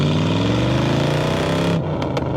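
A 1970s Plymouth Cuda muscle car with a V8 and Holley four-barrel carburetor revs loudly up close, a deep rising engine drone that cuts off abruptly near the end.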